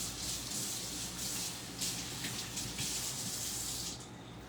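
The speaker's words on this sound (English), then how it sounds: "rinse my fingers" Fingers rinsed under a running kitchen tap during bruschetta prep, a steady close hiss of flowing water with slight splashy variations as the hands move through the stream.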